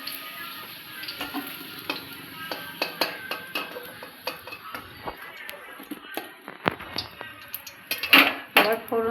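Potato pieces finish frying in hot oil in a kitchen and are lifted out, giving sharp scraping and clinking of a spatula against the pan over a soft ongoing sizzle, with irregular bursts and louder clatter near the end.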